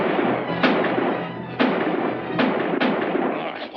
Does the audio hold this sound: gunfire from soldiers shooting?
yes